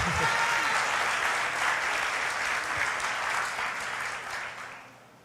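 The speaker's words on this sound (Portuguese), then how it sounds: "Você pode aplaudir a Ele por isso?" A church congregation bursts into sustained, dense applause during a Portuguese-language sermon, loud and even for several seconds before tapering off toward the end.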